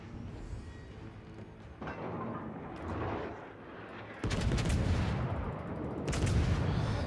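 Naval gunfire from a Baltimore cruiser in the World of Warships video game: distant booming shots, then a sudden loud roaring salvo that rumbles on, with a second heavy boom near the end.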